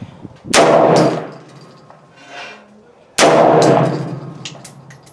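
Two loud rifle shots at an outdoor range during a test of a Monstrum Tactical Marksman 3x30 prism scope, several seconds apart, each a sharp crack trailing into a long echoing decay.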